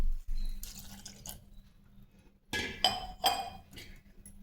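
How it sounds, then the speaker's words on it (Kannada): Water is poured into a pot of cooking lentils for a dill-leaf kootu, splashing in short bursts with clinks and drips between pauses, close and fairly quiet. "ಇನ್ನೊಂದು ಸ್ವಲ್ಪ ಬೇಯಬೇಕಿದು, ಅದಕ್ಕೆ ಸ್ವಲ್ಪ ನೀರು ಹಾಕ್ಕೊಳ್ತಾ ಇದ್ದೀನಿ."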